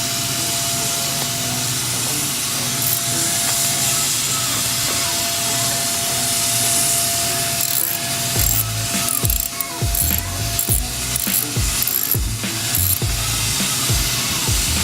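A ratchet clicks away at bolts on a 2019 Kawasaki Ninja 400: a steady whir at first, then a series of close, sharp clicking bursts in quick irregular rhythm, with no talking.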